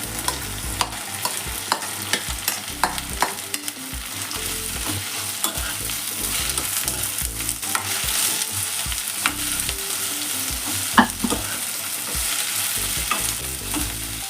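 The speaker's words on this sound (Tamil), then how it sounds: "நம்ம பொடியாக கட் பண்ணி வச்சுருந்த வெண்டங்காயை இதில் கொட்டி நல்லா வதக்குவோம்." Chopped okra stirs and sizzles in hot oil in a pan, a steady frying crackle with scraping stir strokes throughout, close and alone without talk.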